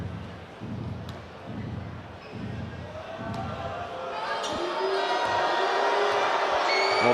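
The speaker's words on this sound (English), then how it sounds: "the boos, the echoes from the home crowd here" In an echoing arena at a basketball game between South China Athletic and Chinggis Broncos, a few ball bounces thud early, then the home crowd's booing swells and builds to a loud, reverberant, continuous roar.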